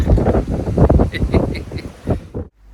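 Strong wind buffets the microphone in heavy, irregular rumbling gusts, with a few faint chirps above, before dropping suddenly to near quiet.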